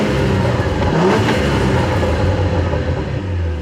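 A manual Cadillac CT4-V Blackwing's factory exhaust rumbles loudly and continuously up close, with crackling pops and burbles mixed into the engine roar as the car is driven.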